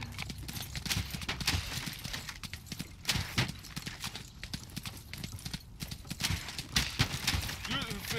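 Horses gallop in a medieval battle in the video game Tiger Knight Empire War, with rapid clip-clopping hoofbeats and occasional whinnies running steadily under noisy combat sounds and players' voices.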